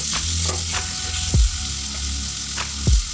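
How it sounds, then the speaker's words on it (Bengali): Small fish frying in a pan with salt, turmeric and slit green chillies, a loud continuous sizzle broken by two distinct thumping stirs of a spatula. "আন্দাজ মতো নুন, 1 চামচ হলুদ গুঁড়ো, 2টো চিরা কাঁচা লঙ্কা দিয়ে ভালো করে নাড়াচাড়া করব"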